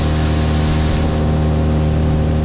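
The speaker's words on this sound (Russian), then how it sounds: "Вот так вот примерно мы едем на Уралочке под Меркурием." An Uralochka boat under a Mercury outboard motor holds medium revs on a river, giving a loud, steady engine drone with a constant hum and water noise throughout and no voices.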